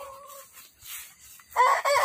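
A white rooster, an Arab chicken cross, crows close by in two short bursts separated by a quiet gap, with faint background sounds between.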